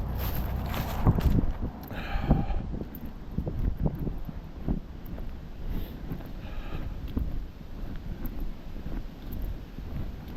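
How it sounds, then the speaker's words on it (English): Strong wind gusting across the microphone on a cold November night walk in Maine, buffeting and roaring unevenly while footsteps crunch along and faint rustling comes and goes. "It really wouldn't be that bad if it wasn't windy. The wind is the problem right now."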